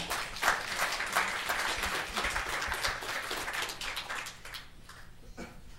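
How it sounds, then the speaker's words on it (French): Applause at a colloquium on Robert Desnos's path as a resistance fighter: a scattered crowd clapping at moderate distance, individual claps distinct, thinning out and tailing off toward the end. "je coupais vos applaudissements"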